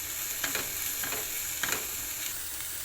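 Vegetables with chilli flakes, salt and mixed spices frying in a pan for a vegetable lasagna filling, giving a steady soft sizzle with a few brief stirring scrapes spaced about half a second apart.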